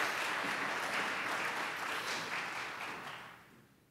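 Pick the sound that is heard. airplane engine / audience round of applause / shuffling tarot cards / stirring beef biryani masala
audience round of applause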